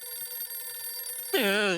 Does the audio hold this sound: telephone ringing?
yes